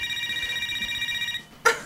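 A telephone rings with a steady electronic trill for over a second, then stops abruptly, followed by a short sharp clatter like the handset being picked up; no voices.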